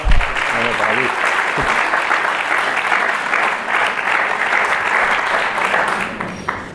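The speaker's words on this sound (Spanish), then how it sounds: "Un fuerte aplauso para Luis." Loud, sustained applause from a congress audience fills the room, with dense clapping running steadily for several seconds before tapering off near the end, and voices faintly mixed in.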